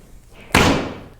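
An arrow loosed from a Black Hunter Bow with a Flemish twist bowstring and beaver string silencers gives one sharp, loud thump, close by, that fades over about half a second.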